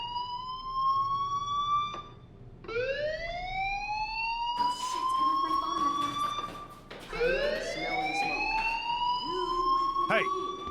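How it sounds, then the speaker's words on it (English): A fire alarm wails in the video game Life Is Strange, rising sweeps repeating loudly over several cycles, with game voices talking over it. "Hey, do you hear that fire alarm?"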